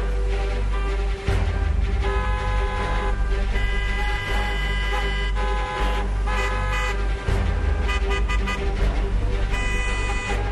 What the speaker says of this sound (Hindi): इसीलिए हॉर्न बजाना जरूरी हो जाता है